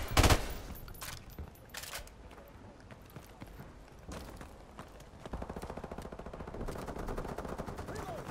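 Rapid gunfire in Modern Warfare Remastered during a Search & Destroy match on Bog: a loud opening shot, then scattered single shots and a sustained automatic burst near the end, with footsteps and faint game noise between.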